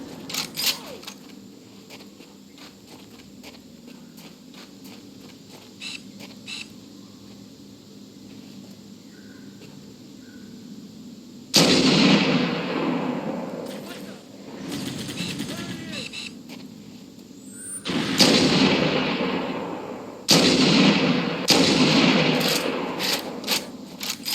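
Halo CE gunfire on Heroic difficulty, several loud bursts of weapon fire cutting in over a low ambient game hum, with rattling mechanical clicks between them.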